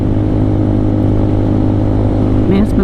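A Lifan KPR200 motorcycle engine fitted with a KP Moto aftermarket exhaust runs at a steady, loud, close idle, with a smooth continuous hum and no revving.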